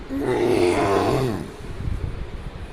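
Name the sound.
voice imitating a bellowing bull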